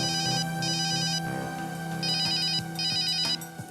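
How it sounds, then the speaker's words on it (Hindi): A phone ringtone plays in repeated electronic bursts with a steady melodic tone, loud and close, with no talking over it. "शेखर का फोन"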